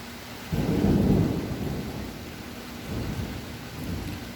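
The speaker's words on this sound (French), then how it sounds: "Et il tonne, tout simplement." Close thunder rumbles heavily over steady rain during a very wet thunderstorm, a loud roll peaking around the first second and then fading, with fainter rumbles later beneath the constant hiss of rain.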